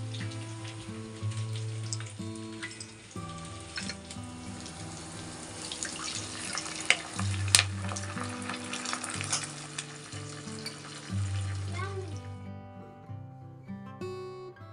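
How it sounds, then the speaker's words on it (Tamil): Mustard seeds, urad dal, shallots, curry leaves and dried chillies tempering in hot oil give a steady close sizzle and crackle, with stirring clinks and some background hum. "எண்ணெய் ஊற்றி கடுகு உளுந்து அதுக்கப்புறம் சின்ன வெங்காயம் கருவேப்பிலை வரமிளகாய் சேர்த்து தாளிச்சிட்டு"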